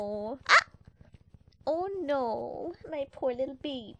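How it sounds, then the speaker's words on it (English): A pet dog named Ruby barks in the background of a room while someone talks over it nearly throughout, with a sharp bark-like burst near the start. "I'm sorry if you can hear my dog in the background"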